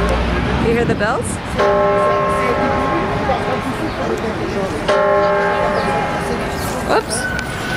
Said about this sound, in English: Hear the bells?